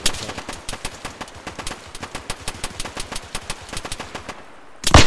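Friendly fire in a military video game: a long, steady stream of rapid automatic gunshots, evenly spaced and close, stops briefly and then resumes with a loud burst at the end; nobody speaks.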